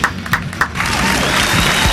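Live concert crowd at a show cheering and applauding, with a few sharp bursts of clapping and screams early on that swell into a dense, steady roar of applause filling the rest of the moment.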